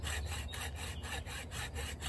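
A small saw cutting wood, with steady back-and-forth rasping strokes about every half second, close and continuous, without voices.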